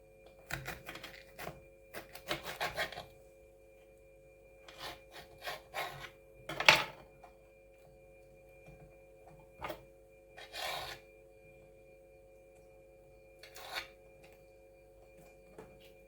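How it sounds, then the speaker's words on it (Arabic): A knife slices the tough ribs out of stacked cabbage leaves, scattered scraping and rasping cuts in short bursts with quiet pauses between, close and fairly soft. "هنبدا بقى نقطع العروق بتاعتها"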